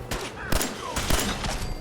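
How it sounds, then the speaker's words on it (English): Rapid minigun fire in Fallout 4 during a fight with super mutants, dense bursts of loud gunfire crackling continuously with sharp peaks and spinning whine. "There was a behemoth that Arnold started using his minigun to kill"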